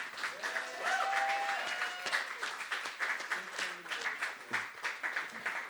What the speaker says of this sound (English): give an extended round of applause to the four pillars of Dayton Poetry Slam tonight